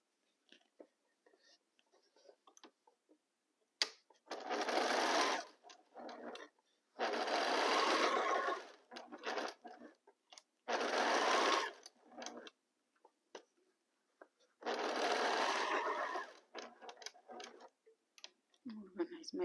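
A sewing machine stitches fabric pieces for a quilt star block in four bursts of rapid whirring, each a couple of seconds long. Quiet ticks and fabric handling fill the pauses, all close by.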